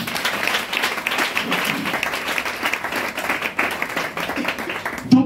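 A church congregation claps steadily through a worship service, dense continuous applause filling the room, with a few voices faintly mixed in near the end.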